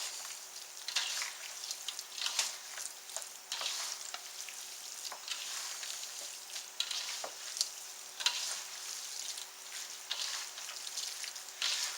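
Ground sausage meat with jalapenos and cheddar is mixed by hand in a bowl. A steady, wet, crackling squish continues throughout with small irregular pops, and no one speaks.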